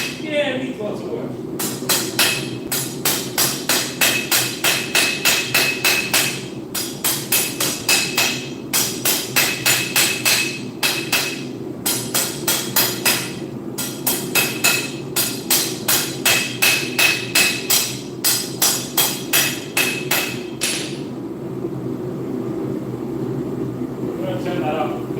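Steel being hammered in a metalworking shop, with bursts of rapid, evenly spaced metallic blows separated by short pauses, loud and close, over a steady low hum of background machinery.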